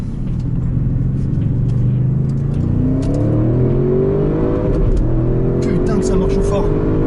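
An Audi RS6, RSQ8 or R8 RWD accelerates hard on a race circuit, its engine note climbing in rising sweeps through the gears, loud and close, with a driver's voice faintly underneath.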